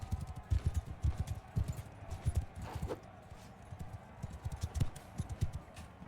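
A horse gallops in the medieval combat game Mount & Blade II: Bannerlord, its rhythmic hoofbeats thudding quietly and steadily with a faint background hiss.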